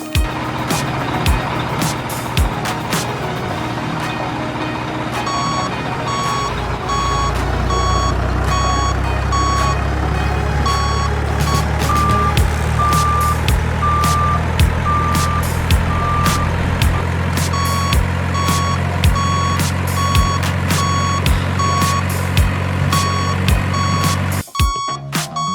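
A crane truck reverses with a steady run of regular electronic warning beeps over a continuous low diesel engine rumble, loud and close throughout.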